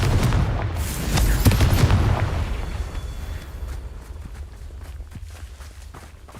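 A Confringo blasting spell bursts in the Hogwarts Legacy video game, a loud booming blast at the start with heavy low rumble, then fading into quieter scattered thuds and debris sounds.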